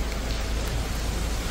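Steady rain falls continuously in the flood-hit lowland near the Gandak River at Valmiki Nagar, Bihar, a dense, even hiss without pauses.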